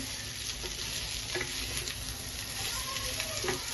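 Mixed vegetables and paneer being stir-fried in a pan, with a steady soft sizzle and occasional scrapes of stirring running throughout, no voices.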